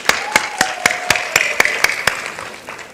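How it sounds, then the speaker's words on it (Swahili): Audience applause at a women's leadership conference: nine sharp, evenly spaced claps ring out over about two seconds and fade, with a faint voice underneath. "Yeah, basi tupige makofi."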